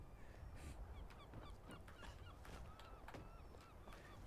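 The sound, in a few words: gulls calling in the background, from the video game Skyrim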